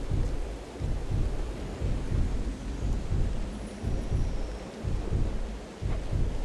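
Thunderstorm in the video game Hades 2: continuous low rumbling thunder with repeated rolling surges and steady rain noise, loud and without speech.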